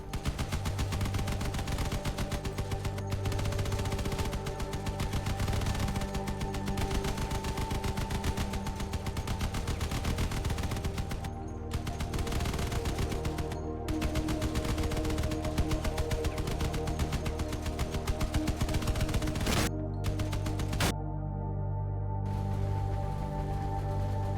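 Strange Caucasus smart weapon firing in the vehicle combat game Crossout, a dense continuous rattle of rapid shots that stays loud throughout, broken by a few brief pauses near the end, with no voices.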